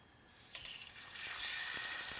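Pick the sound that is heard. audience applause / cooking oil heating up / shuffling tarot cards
cooking oil heating up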